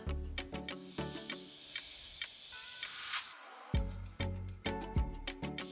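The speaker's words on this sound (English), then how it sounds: "Into our pan, we are going to add 80 grams of our marinated pork." Marinated pork hits a hot pan and sizzles with a bright, steady hiss for a few seconds, followed by sharp clacks and taps from a utensil, all close and without talk.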